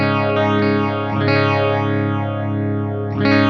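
A Line 6 Spider Valve HD100 guitar amp plays a sustained distorted electric guitar through a phaser, its sweeping swirl rising and falling in slow cycles, loud and continuous, with a fresh strum near the end.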